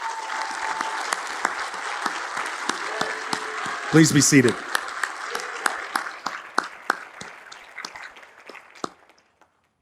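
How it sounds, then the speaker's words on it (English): Audience applause fills a graduation ceremony at Cushing Academy, a steady wash of many hands clapping that rises briefly, then thins into scattered claps and fades out, with a voice speaking over it near the middle. "Let us recognize and thank all these professionals who have helped shape your life as a Cushing student by giving them a big round of applause."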